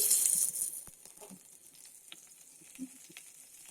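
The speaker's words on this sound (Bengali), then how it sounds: "এবার বেগুনগুলো ভেজে নিব" Eggplant slices fry in hot oil, a bright burst of sizzling at the start that quickly fades to faint crackles and pops, close and quiet, with no talking.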